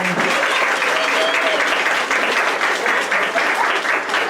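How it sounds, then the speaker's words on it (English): Crowd at a South Fayette 175th anniversary gathering applauding steadily, a continuous even wash of clapping that holds for several seconds without dropping off. "And one more round of applause, please,"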